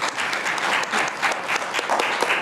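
Audience applause at a school board meeting, a moderate, even burst of many people clapping with no voices over it.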